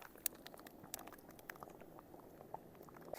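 Faint bubbling and popping of water on the boil, irregular soft pops and crackles close by, with no voices.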